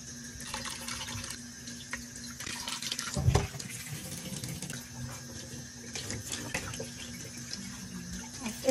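Chopped beef is washed under a running kitchen tap. Water streams steadily into the sink with occasional splashes and handling noises close by.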